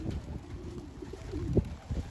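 Pigeons coo in a loft, soft low throaty calls rising now and then, with one louder coo near the end over a quiet, steady background.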